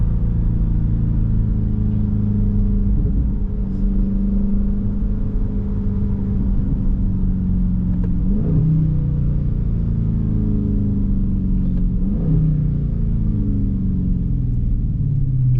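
A widebody Dodge Charger Scat Pack's V8 engine revs and pulls hard under acceleration, with two distinct shifts where the pitch drops and climbs again; steady, close, loud rumble throughout, heard from inside the car.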